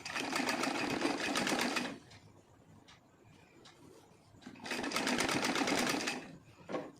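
A sewing machine stitches an old heavy silk saree in two loud bursts of rapid, steady whirring, separated by a quieter pause with faint handling sounds.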